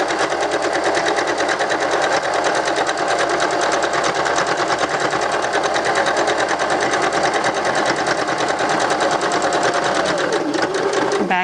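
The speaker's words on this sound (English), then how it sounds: "change to your straight stitch on the selector, back stitch, and then stitch all the way to the end" A sewing machine runs a continuous straight stitch along a seam for about eleven seconds, a steady, loud, even mechanical whir that stays constant throughout and slows at the very end.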